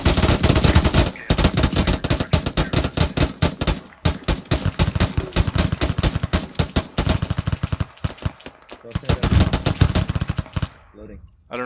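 Heavy automatic gunfire from ArmA 3 rattles in long, dense bursts through a military simulation raid, loud and close, with brief pauses between strings of shots before it cuts off near the end.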